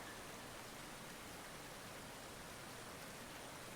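A river rapid on the upper Chetco River rushes in a dense, unbroken wash of white water, steady and enveloping, with no voices.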